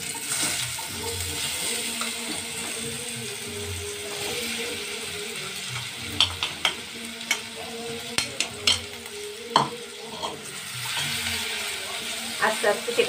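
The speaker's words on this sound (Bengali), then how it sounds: "আস্তে আস্তে সেটাকে একটু নেড়ে ফ্রাই করে নেব।" Jackfruit pieces coated in cornflour stir-fry in hot oil in a wok. A soft, steady sizzle runs under repeated sharp scrapes and clacks of a spatula against the metal.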